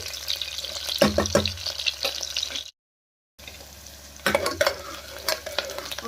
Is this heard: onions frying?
yes